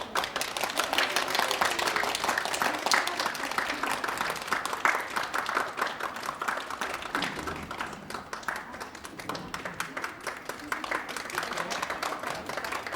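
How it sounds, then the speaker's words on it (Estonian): Audience applause after a dance performance, a dense, sustained clapping crowd filling the room steadily and loudly without a break. "Te võite plaksutada."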